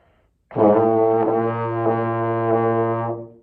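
A sustained slurred trombone note with a sudden start, held evenly with slight wavering pulses, then tapering off near the end.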